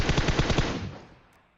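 Rapid automatic fire from an M4 rifle in a video game, a loud close burst of about six evenly spaced shots that stops abruptly and leaves a fading echo tail, with no voices.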